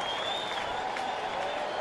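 Baseball stadium crowd in St. Louis on its feet applauding at an NLDS playoff game, a dense, steady roar of clapping and cheering held at full level throughout.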